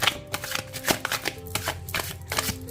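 Tarot cards being shuffled by hand, with a run of soft riffling and tapping bursts at close range, no voice.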